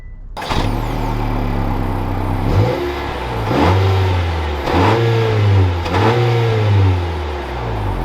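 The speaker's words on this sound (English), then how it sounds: "let's take this Accord Sport Special Edition out and see how it drives" A 2021 Honda Accord Sport Special Edition starts and pulls away, its engine revving up through several rising gear pulls, loud and close with no talking.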